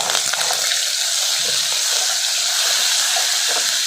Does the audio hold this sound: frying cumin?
yes